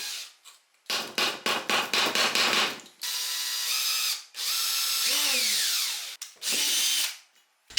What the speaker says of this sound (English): drilling the mounting holes into the actual frame of the lamp